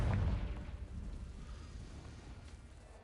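A Confringo fire blast spell in Hogwarts Legacy lands as one loud, deep burst at the start, then a rumbling low decay trails off over the next few seconds.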